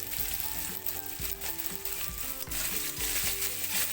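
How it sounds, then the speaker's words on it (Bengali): Ground chili, cumin and other spices fry with potatoes in a pan, a soft steady sizzle under repeated low scraping stirs, without voices. "সবগুলো মশলা একসাথে কষিয়ে নেব আলুর সাথে"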